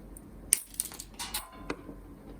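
A crimping tool cuts through Cat5/Cat6 Ethernet cable with a few sharp, close metallic clicks and snips, separated by short quiet gaps. No one talks.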